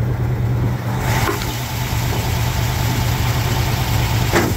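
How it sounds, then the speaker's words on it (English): The original 292 Y-block V8 in a 1955 Ford F100 idles steadily and fairly loud up close, a continuous low rumble with a slight lift in revs partway through. "It's got the original 292 Y block, and it actually sounds pretty darn good"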